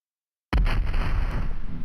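A war galleon's cannon blasts in the Rayman Origins video game, one sudden heavy boom after half a second of silence, followed by a loud rumbling roar that carries on to the end.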